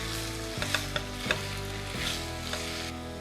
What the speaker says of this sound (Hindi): बस थोड़ा सा इसे स्टर करना है, just mix it up with all the lovely high aromatics और जो ग्रीन करी का पेस्ट हमने डाला है